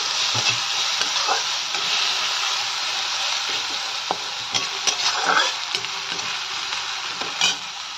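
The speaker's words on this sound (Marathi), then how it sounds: "मिक्स करून घ्यायचंय मीडियम गॅसवरती।" Chili, ginger, garlic and coriander fry in a pan over a medium gas flame, giving a steady hiss broken by scattered clicks and scraping stirs, close and unaccompanied by speech.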